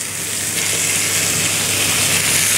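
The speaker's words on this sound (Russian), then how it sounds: "Мы можем начать обжаривать наше каре." A rack of venison sears in a hot pan. The loud, dense sizzle is close and steady, swelling slightly after the first half second and then holding level throughout.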